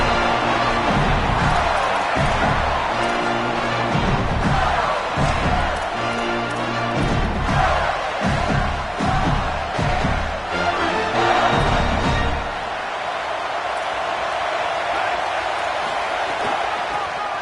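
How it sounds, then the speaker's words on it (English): Crowd roaring in a packed college football stadium at a Georgia game, cheering the defense after a run stopped at the line of scrimmage; a loud, sustained wall of noise with announcers talking over it before the roar drops off. "this crowd giving this defense some juice"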